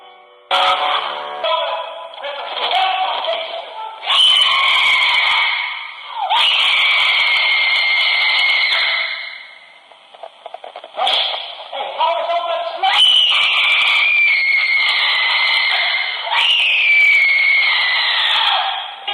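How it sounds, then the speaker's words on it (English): A woman shrieking and screaming in bursts, high piercing wails that rise and fall with brief gaps between, loud and close, dominating the recording. "Let's hear the most spine-chilling shrieking of a woman"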